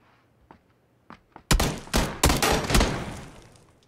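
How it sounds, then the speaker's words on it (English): Gunfire in PUBG goes from a few faint distant pops to a loud close volley of rapid shots that rattles on for a couple of seconds. "Why are they shooting?"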